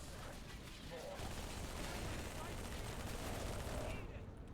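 Dual-wielded guns fire in Halo 3 as a dense, continuous rattle of rapid shots, a loud and unbroken burst that fills the whole stretch.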